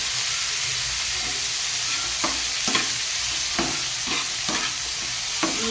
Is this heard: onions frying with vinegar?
yes